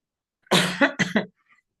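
A person with a lingering cold coughs two or three times in a quick cluster, harsh and close, the last cough tailing off like a throat clear, with silence around it.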